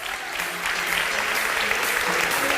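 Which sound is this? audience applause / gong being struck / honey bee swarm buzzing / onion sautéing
audience applause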